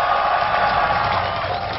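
Broad, steady crowd noise at a League of Legends championship match in a full Los Angeles arena, a dense wall of cheering and applause that holds evenly throughout.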